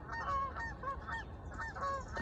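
A flock of geese honks repeatedly at their spot, a steady stream of overlapping nasal calls at moderate distance over low background rumble.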